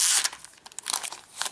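Plastic envelope peeled back from a new Logitech Ultrathin keyboard for iPad mini, a close, brief crinkling and tearing rustle in uneven bursts, with no talk over it.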